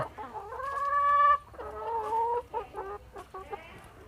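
A laying hen nearby gives a long drawn-out cackle, then a series of shorter clucks that trail off.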